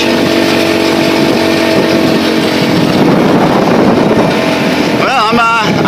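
Jawa Super Scoot scooter engine running loud and steady with wind rush throughout, then a rising and falling pitch sweep near the end as it revs.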